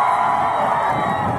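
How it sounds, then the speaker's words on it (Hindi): Loud, dense crowd clapping and cheering for a guest called Salman at a gathering in Mechuka, Arunachal Pradesh, a steady roar of hands and whoops filling the whole moment with no pause. "उनको प्लीज जोरदार तालियों से स्वागत कीजिए"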